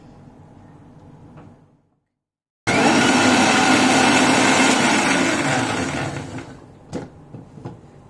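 A kitchen mixer grinder blends spinach (palak) with a little water. After a brief quiet pause the motor roars loudly and steadily for about three seconds, then winds down, followed by a few sharp clicks and knocks.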